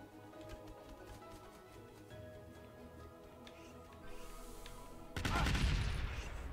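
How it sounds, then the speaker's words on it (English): Bombs explode in a video game, building from scattered ticking and popping into a loud burst of booming blasts near the end, with game sounds throughout. "Got hit by bombs."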